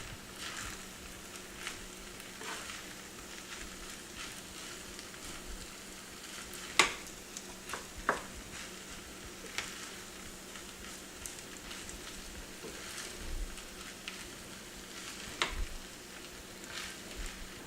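Chinese-style rice frying in a pan, a faint steady sizzle broken by occasional scraping stirs and clinks of the utensil, close and quiet.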